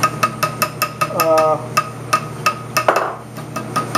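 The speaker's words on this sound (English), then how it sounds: "You're taking and rounding it with the hammers" Hammers striking bronze wire to round it into an earwire, a rhythmic series of sharp metallic taps at about two or three per second, close by, with a brief voice partway through.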